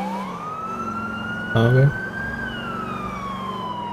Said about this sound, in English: There's a siren outside that actually sounds exactly like the one I'm using right now.